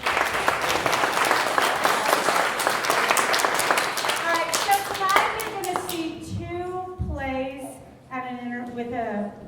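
Audience clapping at a school Greek play festival: dense applause for about five seconds, then thinning into speech as someone talks over the fading claps.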